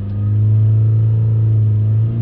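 A Mitsubishi Outlander engine held at about 3000 RPM: a loud, steady, humming engine drone close by, with a slight dip at the end and no talking.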